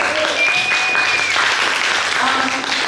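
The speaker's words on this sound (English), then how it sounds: "Give her a round of applause." An audience at an arts and activism event gives a round of applause, loud, dense clapping that fills the room from start to finish, with faint voices over it.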